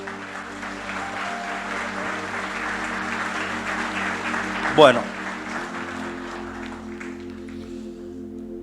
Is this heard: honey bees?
no